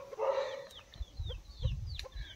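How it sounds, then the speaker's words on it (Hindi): Village chickens cluck in short, quiet bursts, several sharp calls and soft clucks at close range over a low background rumble. "ये आप मुर्गियाँ देख सकते हैं"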